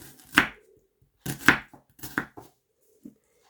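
Onion being finely chopped with a knife on a board, three quick bursts of sharp blade chops with pauses between, close and fairly loud, then a faint single tap.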